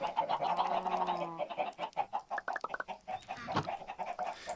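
Minecraft chickens cluck in a quick series of close, choppy calls, one drawn-out squawk followed by rapid repeated clucks, with no speech.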